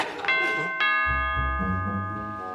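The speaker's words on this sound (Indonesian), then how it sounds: "bel bunyi tuh" A doorbell chimes twice in a home, bright tones ringing out and decaying over about two seconds, loud and close, with background voices faintly under the first chime.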